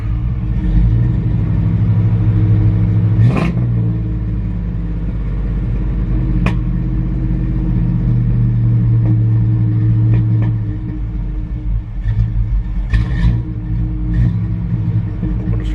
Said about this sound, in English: It's a very, very responsive motor.